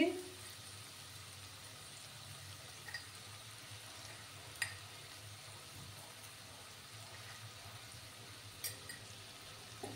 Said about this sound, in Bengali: ভালো করে একদম মুচমুচে করে আমি এটাকে ফ্রাই করে নেব।